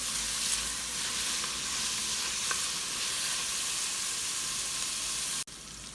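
Thin carrot slices stir-frying in a pan, a steady loud sizzle that runs unbroken, with a brief clunk near the end as the slices are turned.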